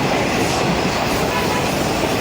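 The Allama Iqbal Express, a Pakistani passenger train, runs along the tracks near Okara, its wheels and carriages keeping up a loud, steady rumble with a clattering rhythm as it picks up speed again on the approach to the station.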